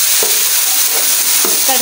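Cumin tempering sizzles loudly in hot oil as water is added, a continuous bright hiss with a few soft clinks of a utensil against the pan.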